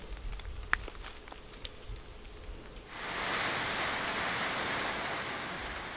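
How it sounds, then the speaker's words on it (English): Rain blowing in over a homestead where a tree was felled, starting halfway as a sudden broad steady hiss after a quieter stretch with faint insects. "there's rain blowing in"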